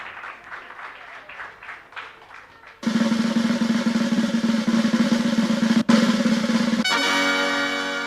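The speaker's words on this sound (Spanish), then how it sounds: "Un aplauso" Congregation applause at a New Year church service, starting with scattered claps and then swelling into loud, sustained clapping from a large crowd that carries on through a brief pause.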